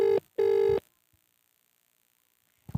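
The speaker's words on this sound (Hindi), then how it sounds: "हम पार्षद को फ़ोन मिला रहे हैं।" Phone call to a local councillor being dialed: two sustained loud keypad or ringback tones in quick succession, then a silent pause before another tone begins at the end.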